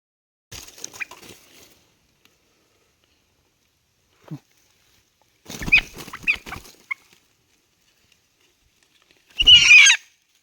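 A hen clucks in short bursts separated by quiet pauses, close to the listener, ending in a louder squawk.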